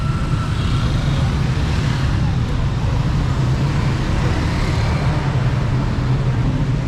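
Busy street traffic in Iran with old cars, pickups and motorbikes: a dense, continuous roar of engines and road noise close by, steady throughout with no pauses.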